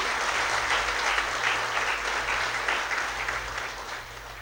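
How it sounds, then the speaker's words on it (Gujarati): A crowd claps loudly to welcome a speaker at a talk, producing a thick, continuous wash of applause that holds strong for several seconds and eases only slightly toward the end, with a low electrical hum beneath. "એને જોરદાર તાળીથી વધારે."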